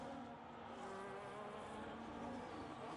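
Race cars in a Mario Kart-style racing video game drone steadily at low volume, a continuous buzzy engine tone with no distinct passes or speech.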